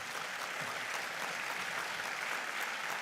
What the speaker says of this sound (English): Let's give her a hearty clap.